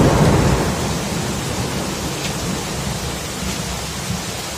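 Thunder rumbling through a heavy storm with hail and downpour in Kyiv, a deep roll that fades into a steady hiss of pouring rain, loud and enveloping with no speech.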